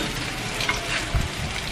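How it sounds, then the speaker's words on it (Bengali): Paneer kofta balls fry in hot mustard oil, a steady close crackling sizzle with faint stirring, no voices. "দেখো কি সুন্দর করে ভাজা হয়ে যাচ্ছে"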